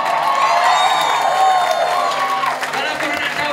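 Concert crowd at a live band show in Johor's Rockin' Jamz Hall cheering and applauding, a dense, loud, sustained wash of claps and shouts with a voice over it.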